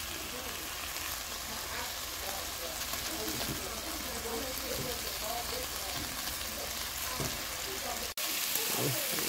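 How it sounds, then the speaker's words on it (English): Bacon frying in a pan for loaded bacon cheeseburger fries, a steady, dense sizzle and crackle that continues throughout at close range. "Bacon still cooking now."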